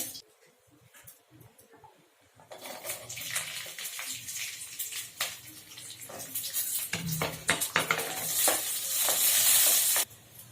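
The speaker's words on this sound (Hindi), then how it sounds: "एही में लहसुन आ मिरचाई खाली भूजे के छै" Loud sizzling and spattering of garlic and chilies frying in refined oil, starting abruptly after a quiet moment and growing louder and hissier toward the end.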